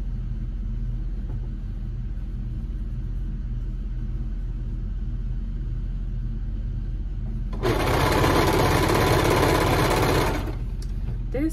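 A sewing machine stitches down a one-inch folded hem on a tee, with a low motor hum in the background, then a loud, fast, steady whirr of stitching bursting in near the end for about three seconds.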